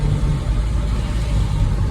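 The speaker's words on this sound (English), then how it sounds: "When the engine revs under 2000 RPM, you can hear that clatter clearly whenever the windows is rolled down." A VW Vento engine running below 2000 RPM gives a low, steady rumbling drone with a rough clattering texture, heard from inside the moving car with the window down.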